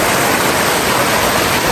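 Muddy, coffee-coloured stream water rushes steadily beside a dam on a rainy day, a continuous broadband wash with no break and no voices.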